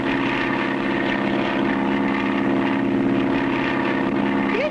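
Propeller bush plane in flight, a steady droning engine hum with a constant pitch, held loud and even throughout with no talking.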